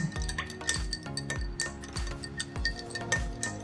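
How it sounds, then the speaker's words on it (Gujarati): A spoon stirs fennel and lemon sharbat in a glass, producing quick repeated clinks of metal against glass and ice in a steady rhythm. "અને એક વખત એમાં ચમચીથી હલાવી લેવાનું છે."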